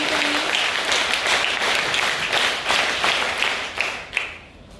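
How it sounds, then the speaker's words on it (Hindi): Loud, sustained clapping from an audience at an NCC cadet honours ceremony in a school setting. The applause stays dense and even for several seconds, then tapers off at the end. "और इसके साथ ही जोरदार तालियां होनी चाहिए।"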